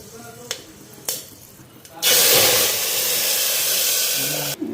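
Black cumin seeds and dried chillies tossed into hot oil, a sudden loud sizzling hiss that bursts in after a few faint clinks and holds steady for several seconds, with brief kitchen sounds around it.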